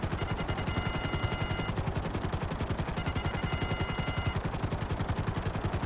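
Rapid, continuous automatic gunfire from a shootout in the video game GTA 5 Online, a dense stream of close, loud shots running for the whole stretch with no talking.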